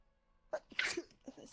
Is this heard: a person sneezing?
yes